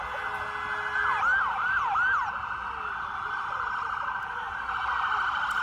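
Police sirens wail and yelp as patrol cars push through traffic past a street protest, a rising and falling whoop cycling several times over a steady background siren tone and traffic rumble, moderately distant.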